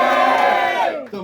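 A comedy show audience cheers and shouts loudly, a sustained roar of voices that fades off after about a second.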